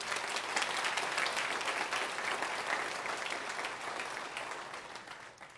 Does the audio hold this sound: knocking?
no